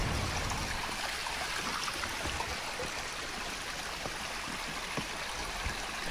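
Continuous rushing of a flowing jungle stream near Tamarin waterfall, Mauritius, a steady broadband wash of water with small splashes, fairly quiet and uninterrupted.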